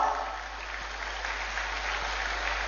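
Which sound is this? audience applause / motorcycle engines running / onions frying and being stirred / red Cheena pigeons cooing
audience applause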